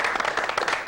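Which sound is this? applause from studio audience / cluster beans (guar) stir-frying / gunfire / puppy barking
applause from studio audience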